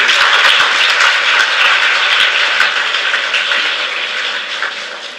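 A crowd claps to welcome a guest at a public talk, with dense, continuous applause that starts loud and gradually tapers off toward the end.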